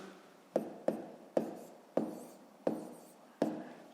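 Numbers being written by hand during a decimal-addition math exercise: six distinct pen or chalk strokes in an uneven rhythm, close and fairly quiet, each with a short scratchy tail, no talk.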